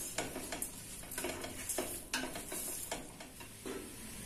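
Masala and salt being stirred into biryani rice in a pan, with repeated scraping strokes of a metal spoon and light sizzling, close up in quick irregular bursts with no voices.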